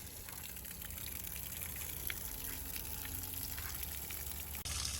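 Water from a garden hose gushes steadily through a jet boat's hull and plumbing during a leak check, a constant, fairly quiet hiss and splash with no pauses.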